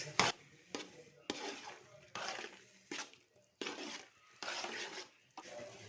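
A spoon scrapes and clanks against a pan in short, separate bursts while cumin and spices are mixed into bottle gourd and ridge gourd. The bursts repeat at a fairly even pace and sound quiet and close.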